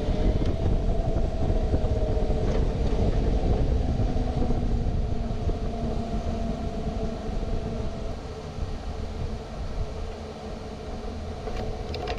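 The Lark Streamliner motorcycle accelerates on the runway at El Mirage, a loud sustained engine drone and rumble with rising tonal whine, steady and fairly close, easing slightly later on.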